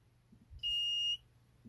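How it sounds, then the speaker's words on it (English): A single steady electronic beep from a metal detector kit, high-pitched and clear, lasting about half a second against near silence. "when you turn it on, if this is set to the middle, you'll get constant beeping with the light"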